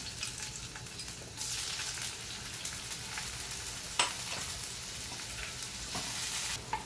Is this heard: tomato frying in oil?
yes